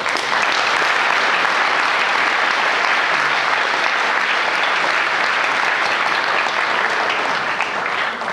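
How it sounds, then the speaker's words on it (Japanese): Loud, sustained applause from participants at a Kansai-wide disability rights rally, marking the adoption of the rally's resolution; a dense, even roar of many hands clapping continuously from start to finish. "今皆さんの大きな拍手でこの、集会決議を採択、できました"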